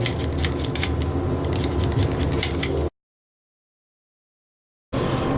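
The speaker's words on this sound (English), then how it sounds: "Peel the potatoes." Potatoes being peeled for a potato ricotta tart, a steady run of quick scraping strokes with crisp clicks, close and loud, broken by a pause of silence before the scraping resumes.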